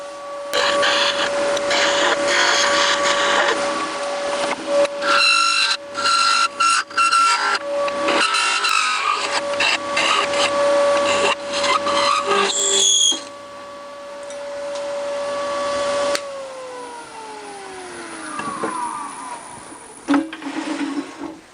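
A wood lathe spins a bowl blank at about 3000 RPM, giving a loud, steady motor whine with rough cutting and scraping bursts, then winding down as the spindle slows near the end.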